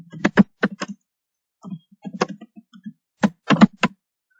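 Keys clatter on a computer keyboard while a program is typed in CodeBlocks, in short bursts of sharp, close clicks separated by brief pauses.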